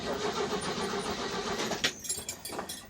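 A 1969 Chevy C10 truck engine revs and runs loudly and close, a rough mid-range roar that swells and then drops off into uneven idling bursts.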